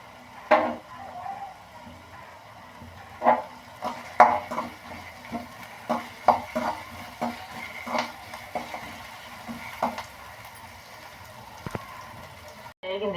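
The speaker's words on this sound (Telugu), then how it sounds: "ఇదండి ఆనియన్స్ వేపుకుంటున్నాను." Sliced onions fry in a pan for a Telugu ivy gourd masala curry, a soft sizzle broken by scattered clinks and scrapes as a spoon stirs against the metal at an uneven pace, close by with no talking.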